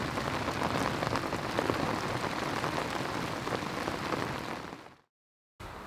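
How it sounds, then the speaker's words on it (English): Steady, dense rain pours down on a bivvy at a Belgian canal during a night of carp fishing, a close, continuous hiss and patter that cuts off abruptly near the end, then briefly resumes. "the next shot will probably be me tucked up in a bivvy with the rain pissing"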